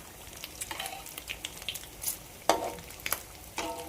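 A crab omelette fries in hot oil over high heat, giving a close, crackling sizzle. Sharp spattering pops punctuate the steady frying, and no voices are heard in the brief moment.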